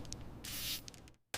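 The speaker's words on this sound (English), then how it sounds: "Spray the glass thoroughly, then wipe firmly in overlapping motions until the streaks disappear." Glass cleaner sprayed onto the glass of a 1967 Shelby GT500, a few short hissing spritzes, one longer burst in the middle and another right at the end, close and fairly soft.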